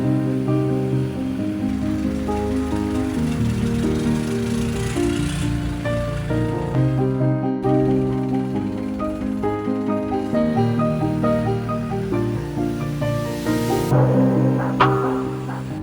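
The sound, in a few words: long-tail boat on a canal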